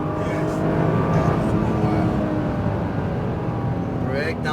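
A Nissan GT-R Premium engine pulls hard on an autocross course, a loud, steady roar that holds for several seconds with a voice talking over it.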